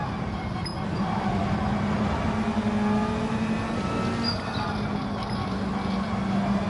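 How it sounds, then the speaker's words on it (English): A car engine hums and revs steadily nearby, its pitch rising and falling slightly in a continuous mechanical drone. "Go enjoy the sound of the car."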